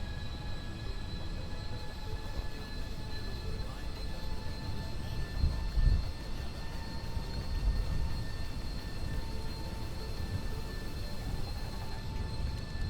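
An aircraft engine in Kerbal Space Program spools up under throttle, a steady droning hum with faint tonal whine and low rumble, fairly quiet and continuous.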